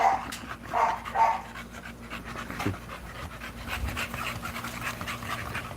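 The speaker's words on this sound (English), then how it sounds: "All right, I'll show you guys some puppies." Puppies pant rapidly in a kennel, quick breathy bursts close by with a faint whimper, against a low background hum.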